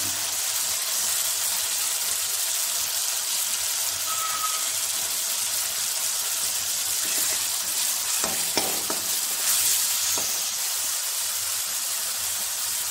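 Golden fried onions with ginger, garlic, amchur, tomato, green chilli and spices sizzle steadily in a pan for the whole stretch, with a few sharp scrapes and knocks of stirring toward the end.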